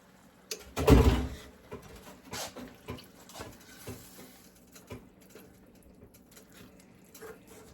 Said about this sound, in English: So now we're going to add our broth. 2 cups of broth that's going in.